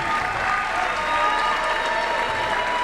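Crowd at a college men's basketball game between Eastern Florida State College and Florida State College cheers and applauds steadily, a dense, loud, continuous wash of clapping and voices filling the gym with no break.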